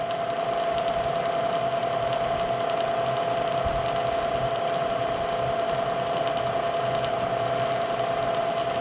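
A milling machine with a digital readout drives its table to the X0 Y0 position while drilling, giving a steady, continuous mechanical hum with a constant whining tone throughout, close and unbroken.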